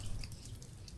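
Water dripping inside an island cave, small irregular drips and trickles over a broad hissy wash of water, fairly close, with no talking.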